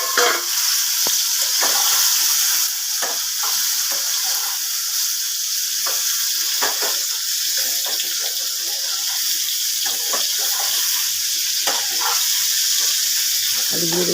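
Potatoes fry in hot oil with whole cumin for jeera aloo, a continuous crackling sizzle with occasional sharper spatters and stirring knocks, fairly close and steady, with faint speech now and then.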